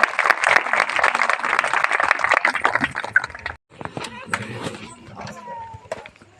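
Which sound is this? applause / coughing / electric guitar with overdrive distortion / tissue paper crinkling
applause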